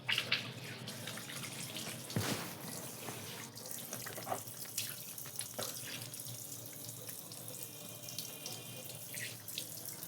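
Tap water runs steadily into a sink while a face is washed, a continuous splashing stream lasting throughout with small shifts in flow and a brief louder splash near the start.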